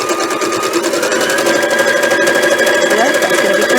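A sewing machine stitches a mug rug with appliqué and foundation paper piecing, a fast, even, close mechanical whirr and needle chatter running throughout, with someone talking over it.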